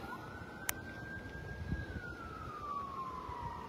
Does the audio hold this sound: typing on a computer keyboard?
no